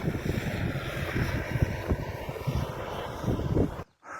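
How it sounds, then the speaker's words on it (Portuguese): A tractor preparing soil on a field for planting conilon coffee rumbles past close by, its steady engine drone mixed with heavy wind buffeting before cutting off abruptly near the end. "Então segue aí o trator passando aí para poder fazer esse serviço."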